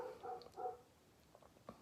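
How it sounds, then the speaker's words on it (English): A dog barks and whimpers indoors, a few short, faint yips and whines over a quiet room background. "Forgive me, my dog is barking."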